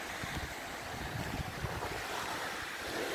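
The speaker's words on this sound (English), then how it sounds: "This is a beautiful beach." Ocean surf breaking on a beach at Crystal Crescent, a steady broad wash of waves with wind buffeting the microphone throughout, no talk.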